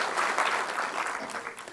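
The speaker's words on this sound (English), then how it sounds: "let's give a big round of applause to Professor B.M. Hegde." Audience applause welcoming a professor to the stage at a talk on healthy living, a short spell of steady, moderately loud clapping from a crowd that softens slightly toward the end.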